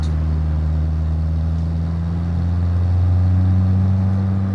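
A Fiat Uno Turbo runs down a road, its engine and exhaust giving a steady low drone that hums on without a break, close and loud, with no talk over it.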